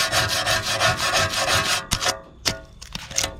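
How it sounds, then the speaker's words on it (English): A wire brush scrubs rust and peeling paint off metal with rhythmic, close rasping strokes, steady at first, then breaking into a few sharper separate scrapes. "we're kind of gonna hit it with a wire brush a little bit"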